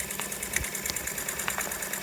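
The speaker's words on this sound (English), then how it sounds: "But now the engine is kicking over smoothly, and we can even slow it down more than that." Jensen Model 25 toy steam engine running smoothly after warming up, a fast, even mechanical chuffing and clicking rhythm, close and steady throughout.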